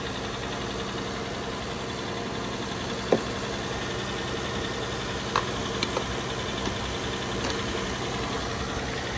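A convertible BMW M3 bought at a salvage auction idles while warming up, a steady low engine hum with a few faint clicks and knocks over the top, and no talking.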